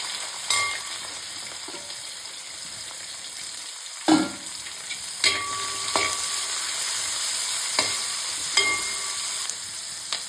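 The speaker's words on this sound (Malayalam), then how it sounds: "അടുത്തത് സവോള ഇടുകയാണ്." Sliced onion fries with crushed ginger in a pan, giving a steady close sizzle. Sharp clacks of a stirring spoon against the pan come every second or so.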